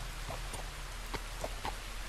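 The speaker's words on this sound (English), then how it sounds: "Oh, now it's raining." Steady rainfall in the Red Dead Redemption 2 game world, a soft continuous wash with a few sharper drips and splashes standing out, heard alone without talk.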